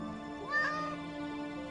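A cat in the game Ara Fell gives a single short meow when petted, faint and clear over quiet, steady game background tones.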